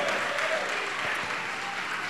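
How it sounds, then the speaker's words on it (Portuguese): A church congregation claps together in a sustained round of applause, a dense, even patter of many hands at moderate distance with no voices over it. "vamos aplaudir mais o Senhor Jesus"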